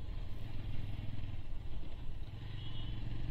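A Bajaj Avenger 160 motorcycle rides along a hilly road through bamboo groves, its engine a steady mid-range drone with wind noise, fairly close and continuous throughout.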